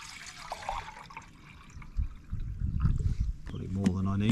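Water pours and splashes into a titanium camping mug at a wild campsite, an uneven trickle with some gurgling bursts, fairly quiet, with background noises and a brief tonal sound near the end.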